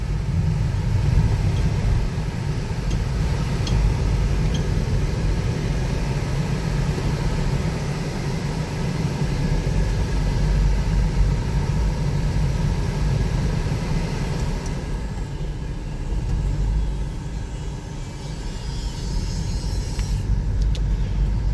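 A 2013 Toyota Aqua hybrid with a faulty hybrid battery pack is out on a test drive in city traffic, and a steady low road rumble and cabin drone carry on without a break, swelling slightly now and then.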